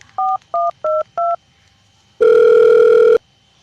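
Four short, evenly spaced touch-tone beeps from a phone keypad as a number is dialed, then a pause and a single long, steady ringback tone, clear and close.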